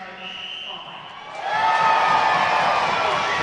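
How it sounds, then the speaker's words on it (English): A large ice hockey arena crowd swells into a loud sustained cheer at a score announcement, rising from a murmur to a broad roar. "A huge cheer for the announcement of the latest Devils Blaze score."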